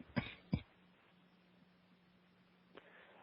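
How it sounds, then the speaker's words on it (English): A man coughs twice in quick succession, close and fairly loud, with a faint steady hum behind and a softer throat sound near the end. "I think you were coughing"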